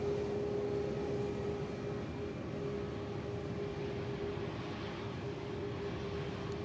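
An aircraft taxis past at an airport, a steady broadband engine roar with a constant whine, moderately near and holding level throughout with no speech.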